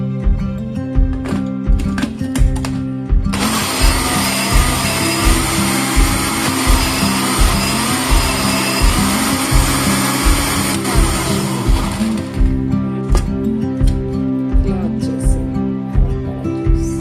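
A mixer grinder blends avocado juice with sugar, a loud, steady whirring motor roar that runs through most of the clip, rising sharply into full grind after a few seconds and easing near the end.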